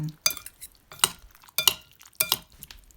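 German potato salad tossed with oil in a mixing bowl, a spoon scraping and clinking against the bowl in four or five separate bursts with quiet gaps between.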